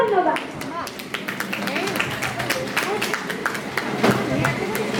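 Audience applause at an Urban Heights Rabindra Jayanti cultural program: steady, dense clapping from a crowd that holds for about five seconds, with faint murmuring mixed in.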